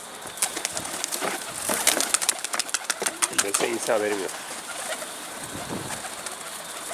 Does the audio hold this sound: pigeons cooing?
yes